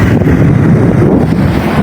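Strong wind gusts buffet the microphone in a steady, roaring rush, with no talking.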